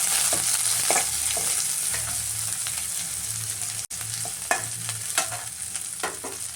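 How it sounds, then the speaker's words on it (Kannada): Garlic and ginger fry in oil in a pan for hotel-style rice bath, giving a steady close sizzle with spoon stirring scrapes and clicks throughout, no talking. "ಇದೆಲ್ಲ ಒಂಚೂರು ಫ್ರೈ ಮಾಡ್ತೀನಿ."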